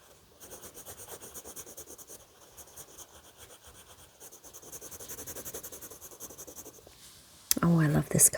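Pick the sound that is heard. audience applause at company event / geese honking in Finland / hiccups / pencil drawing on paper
pencil drawing on paper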